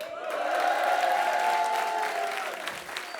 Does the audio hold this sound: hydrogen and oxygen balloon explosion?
no